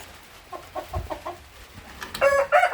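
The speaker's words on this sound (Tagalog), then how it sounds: "ito naman yung isa nating may lahing asil din to ayan si Whitey" An Asil breed hen clucking in a backyard coop: a short series of soft, rhythmic clucks, followed by a louder, higher-pitched crowing call from another chicken near the end.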